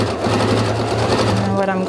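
Sewing machine stitching a butterfly top, a steady close mechanical whir running throughout with a person talking over it.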